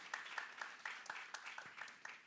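Brief scattered clapping from a church congregation during a Saturday worship service, soft and uneven, with a handful of hands beating loosely.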